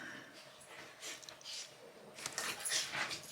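Small female dogs, one a Maltipoo, give faint high whimpers and whines in a few short bursts that grow louder toward the end, with no talk.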